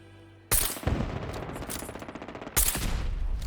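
Annihilator Sentry Bot Mark II in Fallout 4, a modded survival playthrough: two loud bursts of rapid automatic fire, the second starting about two seconds after the first, each a fast rattle of shots.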